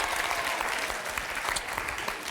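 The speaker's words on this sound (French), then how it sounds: "On peut applaudir Miss Pauline." A TV game-show studio audience applauds steadily and fairly loudly for the whole stretch, a dense even wash of clapping with no voices on top.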